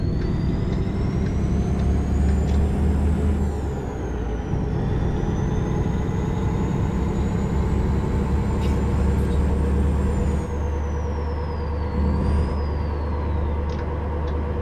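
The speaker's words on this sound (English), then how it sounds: "we're going to punch the throttle wide open" Simulated Caterpillar 3406E diesel, tuned to 2150 hp, in a Mack Super Liner in American Truck Simulator, pulling at full throttle: a loud, steady, unbroken low engine roar with a rising whine on top, lasting the whole stretch.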